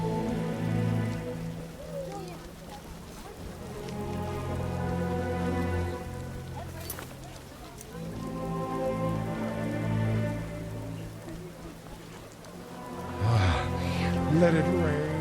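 Rain in The Witcher patters steadily on surfaces as a continuous hiss beneath game music and occasional voices, with a sharper louder patch of sound near the end.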